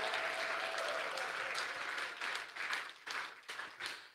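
A church congregation applauds during a French-language sermon, the clapping loud and dense at first, then breaking into uneven rhythmic bursts with short dips between them.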